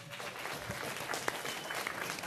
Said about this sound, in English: Please welcome, with a warm, long applause, the head of organization of this year's DebConf, Andreas Schulte